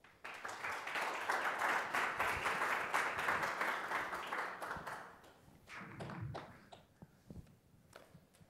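Audience applause welcomes Paul Pierson to the stage at a Berkeley inequality talk, loud sustained clapping for about five seconds that then thins into scattered claps and fades.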